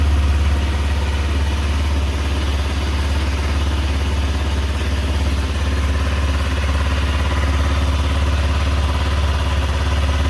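A fuel-injected motorbike engine idles steadily after starting on a slightly weak battery, a loud, close, even low rumble that holds unchanged throughout with no talk.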